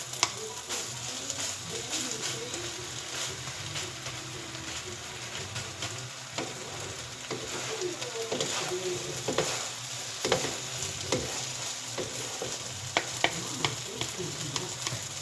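Sweet Thai pork cubes fry in a pan with a steady sizzle, while a utensil stirs and scrapes through them in repeated clattering strokes, heard close up.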